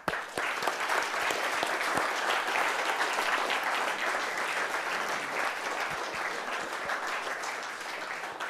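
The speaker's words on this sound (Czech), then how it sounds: "ten potlesk patří i vám" Sustained applause from a conference audience at the end of a talk, dense clapping holding steady throughout, then tapering slightly at the end.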